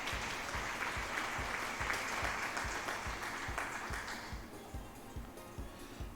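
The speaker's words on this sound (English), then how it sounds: "Thank you for the applause." Sustained crowd applause in the video game Tribal Hunter, a dense, even wash of clapping that runs throughout, with a steady low thumping beat pulsing underneath.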